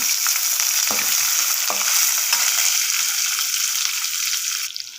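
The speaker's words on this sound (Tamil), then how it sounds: "ஒரு பெரிய வெங்காயம் போட்டு வதக்கிடலாம்." Chopped onion sautéing in a pan sizzles loudly and evenly, with a few brief stirring clicks, close and without talk.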